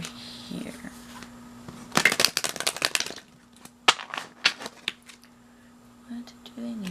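Tarot cards shuffled close by in bursts of crisp riffling and flicking slaps, with quiet pauses between, over a faint steady hum.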